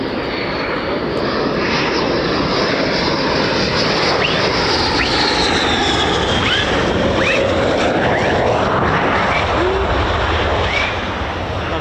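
Fighter jets, F-15s and F-35s, arrive at RAF Lakenheath with a loud, continuous roar that fills the whole clip, holding steady and swelling slightly toward the end with no talk.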